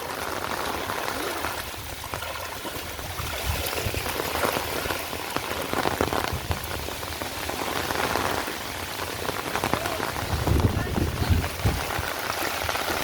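Heavy monsoon rain pours steadily onto surfaces around a half-submerged temple, a dense, even roar of drops with no pause across the whole stretch.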